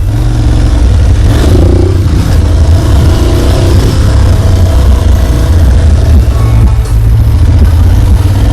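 An Aprilia Tuareg 660 adventure motorcycle's engine drones steadily and loudly during a test ride, a constant low rumble with wind and road noise and no clear revving peaks.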